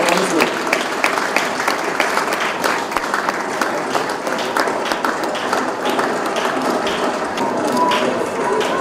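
At a wedding, an audience applauds a couple receiving their certificate: sustained, dense clapping from many hands, close and loud, with voices mixed into it.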